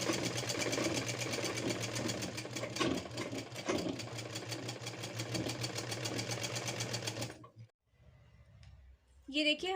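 A sewing machine runs steadily while stitching around the neckline of a designer blouse, with a loud, fast, even mechanical rattle for about seven seconds before it stops, followed by quieter handling noise and a brief clatter at the end.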